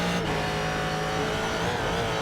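Race car engine in iRacing screaming at high revs through a gear change, loud and close with a dense, continuous roar.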